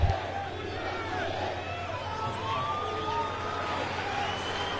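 A rugby stadium crowd at a Chile versus Spain test match roars and applauds in support of Chile, a broad continuous murmur of many voices with scattered shouts, fairly distant and steady.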